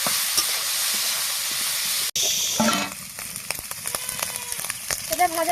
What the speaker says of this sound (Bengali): দিয়ে ভালো করে এটা ভেজে নেব